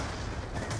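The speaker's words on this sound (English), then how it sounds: "That nade hit me from fucking miles away, man." A grenade explodes in Black Ops 2 as a brief, muffled low boom within dense gameplay noise, one heavy thump lasting under a second.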